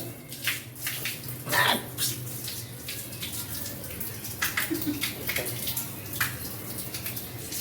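Water splashing and trickling during a baby's bath, soft and close with irregular splashes and drips, a few faint voices in the background.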